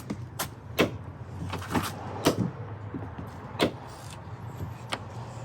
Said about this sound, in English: Listen to the click in the hinge.